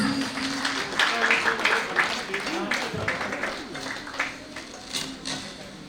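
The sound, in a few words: audience applause welcoming guests at a New Year celebration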